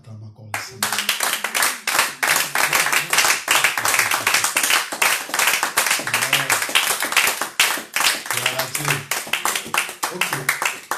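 A church congregation at a French-speaking worship service claps rhythmically and applauds, a dense run of quick hand claps mixed with voices and singing.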